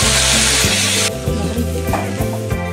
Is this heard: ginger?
yes